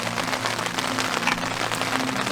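Steady storm rain falls throughout on an overnight backpacking trip, a dense continuous hiss with scattered sharper drop patters and a faint low hum beneath.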